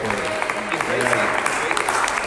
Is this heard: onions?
no